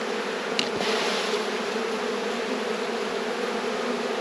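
Honeybees swarm and drink nectar in an open hive during a late-season inspection before winter, a dense, steady buzzing hum that holds throughout with a brief knock near the start.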